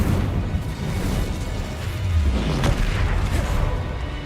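An Incendio fire spell cast in Hogwarts Legacy, a loud rumbling whoosh and burst with a deep boom partway through, sustained over a few seconds amid game noise.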